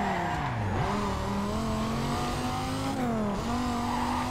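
A race car in Need for Speed Carbon holds a steady, loud engine drone, its pitch dipping and climbing again as it shifts gears, with tires squealing through the corners and no voices.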